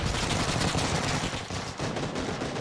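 Dense, continuous gunfire from a PUBG match on PC, loud and close, rattling without pause across the whole stretch with no clear gaps between shots.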